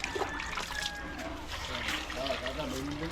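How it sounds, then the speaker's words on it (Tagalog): Water is poured into a pot to be boiled, making a steady trickling splash that is faint beneath nearby talk. "Lagyan natin ng tubig para maibuhos mamaya"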